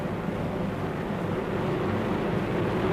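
Four 2,200-horsepower aircraft engines spin 16.5-foot Hamilton propellers on a World War II bomber, making a loud, steady, dense droning roar with no break.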